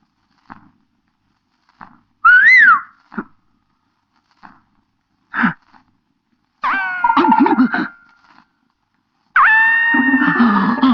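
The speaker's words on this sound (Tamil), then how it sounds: "நீயா விசில் அடிச்ச?" A person whistles in short rising and sliding tones, a few brief bursts spread between pauses, fairly close and clear.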